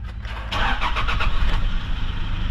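A Toyota Innova with a 2KD diesel engine, which had been stuck at about 1,000 rpm with a check-engine fault, cranks in a short burst of rhythmic pulses and then catches into a steady, close, loud idle.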